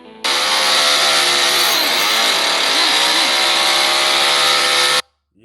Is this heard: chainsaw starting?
yes